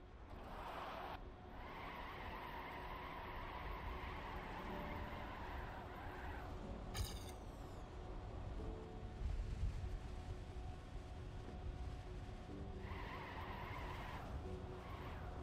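Tires skid and squeal as a car drifts in a racing video game, a steady engine roar running underneath with the screeching swelling and fading in long stretches.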